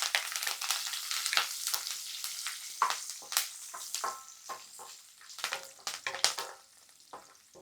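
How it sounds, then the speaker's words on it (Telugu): Cashews and curry leaves fry in oil in a pan, giving a quiet, crackling sizzle with scattered pops and stirring scrapes throughout. "ఇందులోనే మనం కొంచెం కరివేపాకు కూడా వేపేసుకొని తీసేసుకోవాలి"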